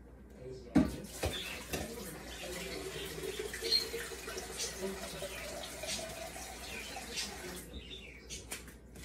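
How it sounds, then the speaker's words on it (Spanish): Water is poured into a flower vase in a steady, trickling splash that runs for several seconds at moderate loudness, with a brief knock near the start. "ya colocamos el agua a nuestro florero"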